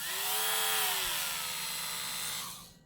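A Wen 23072 cordless rotary tool motor spins up with a high whine that overspeeds, then sags and settles into a steady buzzing drone before cutting off near the end, loud and close with no talking.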